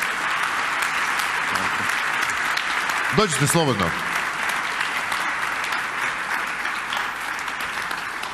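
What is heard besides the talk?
audience applause for the speaker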